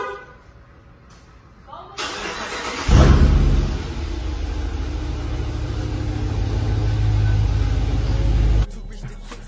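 A 2020 Dodge Charger engine fires up with a sharp burst, then holds a loud, steady rumbling drone that slowly builds before cutting off abruptly.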